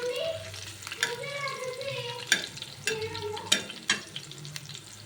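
Green chili and cumin frying in oil give a soft sizzle with several sharp spoon clinks and scrapes against the pan, moderately quiet and close.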